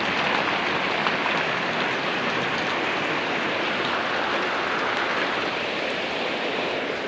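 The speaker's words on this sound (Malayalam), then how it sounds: "എന്താ നല്ല മഴയല്ലേ" Heavy rain pours down steadily in a dense, unbroken hiss of water striking surfaces, loud and constant throughout, with no voices.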